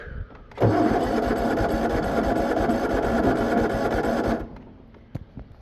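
The engine of a Rat Rod Gator utility vehicle cranks on choke, a steady loud churning whir lasting about four seconds before it stops without catching, followed by faint clicks.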